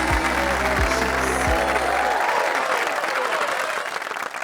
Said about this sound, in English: then thunderous applause.